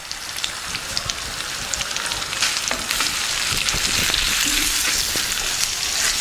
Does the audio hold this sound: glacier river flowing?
no